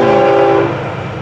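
A loud, close horn blast from a Florida East Coast Railway freight train, train 101, with a steady rumbling of rail cars underneath, the tone cutting off partway as the rumble continues.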